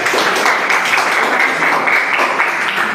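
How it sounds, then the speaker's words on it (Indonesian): Students applaud together in a classroom, a loud, close, dense burst of clapping that holds steady for a few seconds. "Oke, tepuk tangan semuanya."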